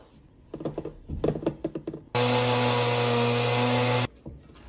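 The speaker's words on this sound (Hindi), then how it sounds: "तोड़ के आपां ने इह ग्राइंड कर लेने ने।" An electric grinder grinds torn bread pieces into crumbs in a loud, roaring burst of about two seconds, with a person talking just before and after.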